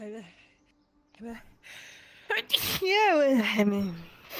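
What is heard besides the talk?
sneeze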